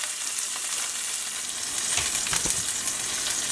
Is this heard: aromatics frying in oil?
yes